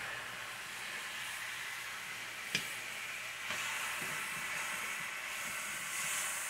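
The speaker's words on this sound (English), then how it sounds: "Something to stir my hamburger meat up with them onions while it's cooking." Ground hamburger meat and onions sizzle in a pan on a stovetop burner turned high, a continuous soft frying hiss broken by one sharp utensil tap and a few light clatters, with no talking.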